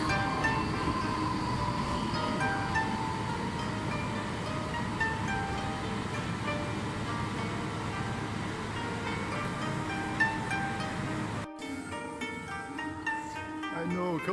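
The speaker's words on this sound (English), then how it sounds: "I love these trains." Train in Japan running to Chitose Airport, heard from inside as a steady moderate rumble and hiss, then abruptly cutting to quieter ambience near the end.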